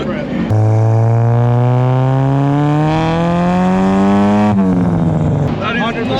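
A very loud, modified Nissan S15 exhaust holds one long rev that climbs steadily for several seconds, then drops off sharply and settles back toward idle, raspy and close.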